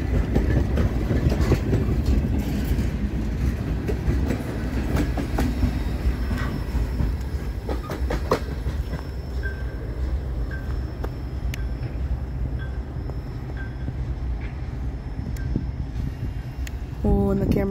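CSX freight train M426 rumbles steadily past at close range, a continuous loud roar of wagons with clicking wheel joints and occasional metallic squeals, and a voice is briefly heard in the background.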